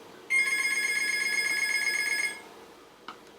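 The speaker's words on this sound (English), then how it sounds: "The phone's ringing." A telephone rings indoors with one sustained electronic bell tone lasting about two seconds, clear and fairly loud against a quiet room, followed by a faint knock.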